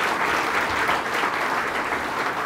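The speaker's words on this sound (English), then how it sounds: "So if we could have a round of applause for him." Steady applause from a crowd fills the whole stretch, dense and continuous with no voices on top.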